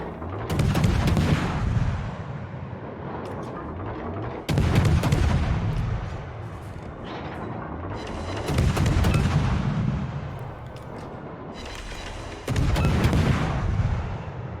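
Warship main guns firing in a naval battle game aboard the Tier 8 destroyer Kiev: four heavy booming salvos spaced a few seconds apart, each a loud sharp blast followed by a rolling rumble, with no talk.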